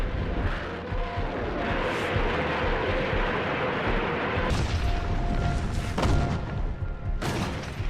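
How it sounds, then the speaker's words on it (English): Soviet Katyusha rocket launchers, nicknamed Stalin's organs, firing a barrage at enemy lines, a continuous rumbling roar of blasts with a few sharper bursts standing out toward the end. "the Soviets obliterate the enemy's lines, pounding them with the rocket launchers they call Stalin's organs"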